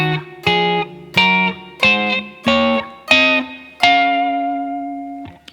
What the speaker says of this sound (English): That scale harmonized in tenths sounds like this.